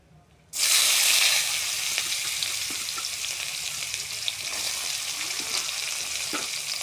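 Chopped onions, added after cumin seeds, hit hot oil in a pan for a paneer masala. A loud sizzle starts abruptly and holds steady nearby, with light stirring clicks and scrapes mixed in and no voices.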